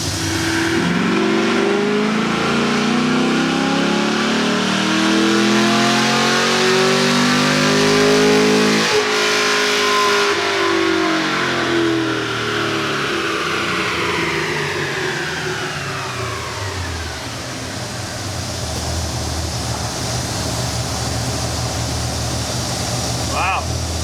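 Car engine revving through a full-throttle pull after a handheld tuner flash, rising steadily in pitch for about ten seconds before backing off and settling to a lower drone, with loud road and engine noise throughout.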